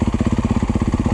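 A Yamaha YZ250F dirt bike engine runs loud and close, with a fast, even pulsing four-stroke beat throughout the short burst.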